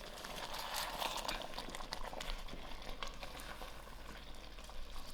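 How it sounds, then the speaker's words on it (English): Mixed vegetable curry bubbling in a pot, a soft continuous sizzle and gentle popping of thickening sauce, steady and close without voices. "I'll allow this to cook for about 5 to 6 minutes and I'll watch."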